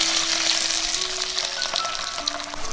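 Ginger, scallion and chili with hot water sizzle loudly in a pan over pork fat, a dense steady hiss with light stirring, close and continuous.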